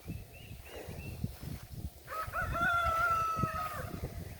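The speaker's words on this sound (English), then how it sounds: "I don't know where the turkeys are, but I can hear them." Turkeys call from somewhere off at a distance, one drawn-out wavering call rising over rustling, bumping background noise outdoors.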